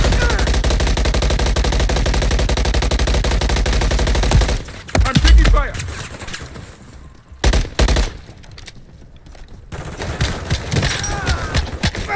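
Call of Duty: Modern Warfare 3 Zombies gunfire, in third person, opens with sustained rapid automatic fire, then breaks into sporadic heavy shots and bursts with quieter gaps, loud and close.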